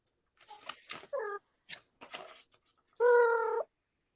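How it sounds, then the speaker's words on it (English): A domestic cat meows loudly and clearly two times, a short meow followed by a longer drawn-out one, with some soft rustling and handling noises in between. "That's your cat."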